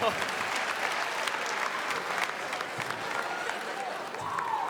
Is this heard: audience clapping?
yes